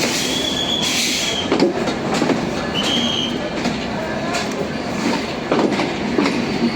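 The Jahanabad Express rolls out of Khulna toward Dhaka with steady rumbling, repeated metallic wheel squeals and faint clattering from the cars.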